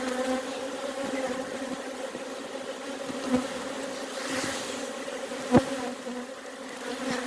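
Honeybees fan and buzz at the entrance of a nuc box outdoors, a steady, dense hum of many wings with a few louder passes as individual bees fly close by.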